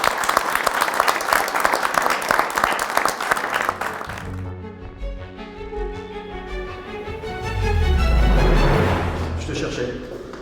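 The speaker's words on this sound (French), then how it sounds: "On peut vous applaudir, je crois." Dense applause fills the opening seconds, then fades into background noise and a low murmur of voices.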